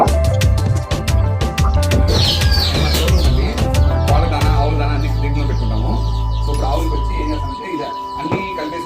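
Guinea fowl and chickens call on a farm, with clucks and chirps scattered over a steady low hum that drops away near the end.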